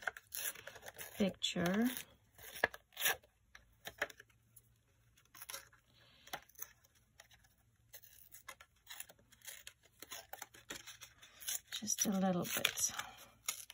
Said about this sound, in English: Maybe I need to tear this